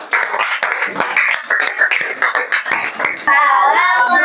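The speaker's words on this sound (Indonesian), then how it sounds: "Kita kasih tepuk tangan yang meriah buat kelompok terakhir kita." Primary school class in Indonesia gives lively applause for the final group, dense rapid clapping from many children, close and loud, ending in cheering voices.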